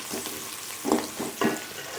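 Onions sautéing in oil in a kadai, a steady close sizzle with a couple of louder stirring scrapes, no voices.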